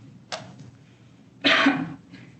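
Two coughs from one person wearing a mask in a courtroom, a short one followed about a second later by a louder, longer one, close by with no talking.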